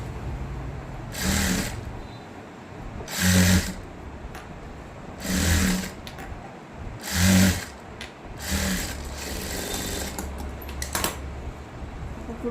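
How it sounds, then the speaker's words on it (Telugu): A sewing machine stitches a patch on a nighty in four or five short, loud mechanical bursts separated by pauses while the fabric is handled, with a quieter hum and light rattling in between. "ఇలా జాయిన్ చేసిన తర్వాత ఇటువైపుకి మలిచి పైనుంచి ఒక కుట్టేయాలి."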